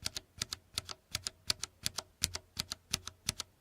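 Clicky tactile keyboard switches typed at a steady, even pace, about three crisp clicks per second, fairly quiet and close, with no other sound.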